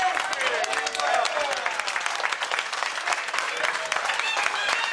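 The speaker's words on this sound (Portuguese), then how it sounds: "uma salva de palmas para a honra" Guests at a lunch gathering in Vila Nova de Gaia break into sustained applause, with steady, dense clapping throughout and some overlapping voices and tonal calls mixed in.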